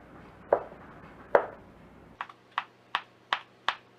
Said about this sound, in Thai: ไข่ที่เราทำไว้พอเย็นก็จะมาหั่นฝอยค่ะ